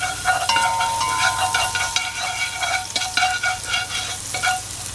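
Garlic sizzles loudly in hot oil in a cast iron pot, a steady hiss broken by light scraping and clinking as it is stirred, with no talking.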